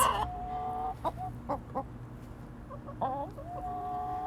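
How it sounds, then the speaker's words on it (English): Egg-laying farm chickens cluck nearby in short, separate bursts, with a drawn-out squawking call at the start and another near the end against a quiet barnyard background. "Noisy birds."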